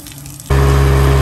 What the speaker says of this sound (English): Water's flowing out of the exhaust like it should.